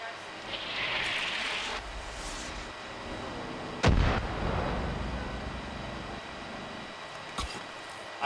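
A mortar fires in the video game Far Cry New Dawn: one heavy booming blast stands out midway, a sharper crack follows later, and it all sits over a steady game background.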